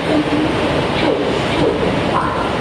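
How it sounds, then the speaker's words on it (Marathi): A passenger train rolls into a railway station platform with a loud, continuous rumble and rattle that stays steady throughout. "बरोबर आपली ट्रेन 11:38ला आलेली आहे."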